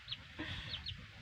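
A fighting rooster clucks in several short, fairly faint calls, separated by brief pauses, over a low background hum.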